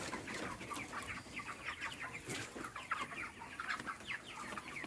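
Thirty-day-old broiler chickens fill an open raised coop with dense, overlapping clucks and soft chatter, a steady flock murmur at moderate distance with no one talking.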